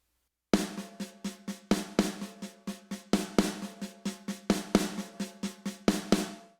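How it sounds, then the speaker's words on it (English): Snare drum playing six-stroke rolls as sextuplets for a drum fill, a fast steady stream of close, crisp strokes with regular accents, alone without talk. "So each beat we're playing a full 6-stroke roll."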